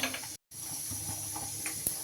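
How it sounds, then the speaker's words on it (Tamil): Mustard seeds spluttering in hot oil in a kadai, a close, steady sizzling hiss with scattered small pops and crackles, broken by a brief silent gap. "இப்போ பார்த்திங்கன்னா கடுகு நல்லா பொரிஞ்சிருச்சு"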